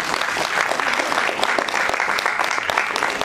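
Audience applause at an award function for Adv Ramakant Ovalekar, honouring composer Datta Davjekar: steady, dense clapping from a large crowd, sustained evenly through the whole stretch.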